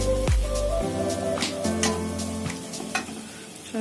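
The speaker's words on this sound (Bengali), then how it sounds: "এবার ছোট ছোট করে বড়ার মতো করে ভেজে নিচ্ছি" Small dal fritters sizzling and crackling in hot oil in a pan, a steady close fry with a low hum and occasional sharper pops.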